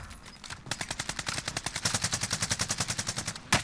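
Rapid automatic gunfire from a Warzone firefight near a hotel rooftop, a steady burst of about twenty-five evenly spaced shots over roughly three seconds at moderate distance, with no talk over it.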